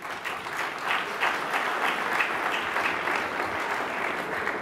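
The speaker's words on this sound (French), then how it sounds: "Nous autres, on l'applaudit, s'il vous plaît." Banquet audience applauding warmly for several seconds, a dense, steady wash of many hands clapping in a hall at an induction dinner.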